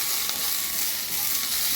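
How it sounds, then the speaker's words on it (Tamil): Chana dal and urad dal fry in hot oil with curry leaves as a tempering for kuzhambu, giving a steady, close, continuous sizzle with no break. "இதெல்லாம் நல்லா வறுபட்டுருச்சு, கடலை பருப்பு உளுந்த பருப்பு எல்லாம்"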